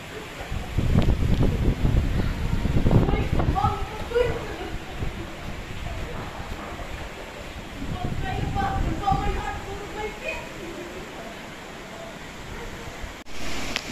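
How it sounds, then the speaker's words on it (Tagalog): Strong super typhoon wind on Burias, Masbate, roars and buffets the microphone in heavy gusts, loud and turbulent with rustling debris, easing slightly midway before rising again. "Grabe, napakalakas po talaga ng hangin."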